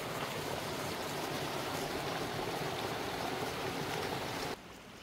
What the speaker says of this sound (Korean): 바로 이렇게 저 맑은 물이 앞에 졸졸졸졸 내려가고,